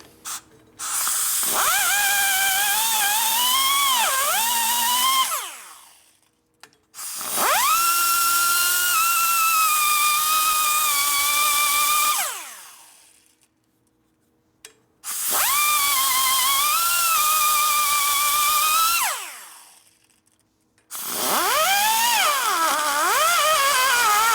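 A high-pitched rotary grinder whines while porting a Harley-Davidson 80ci Evo cylinder head, running in four long bursts split by short pauses, loud and close, with the pitch dipping as it bites into the metal.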